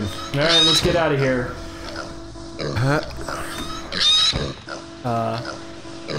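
Video game pig oinking in short bursts over a room-echo chat, with snorting grunts recurring several times between speakers who talk throughout.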